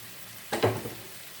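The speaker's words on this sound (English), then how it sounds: "Just going to saute our onions and seasoning peppers." Onions and seasoning peppers hit hot oil in a pot with a short, sharp sizzle that flares briefly and fades, close and fairly quiet with no talking.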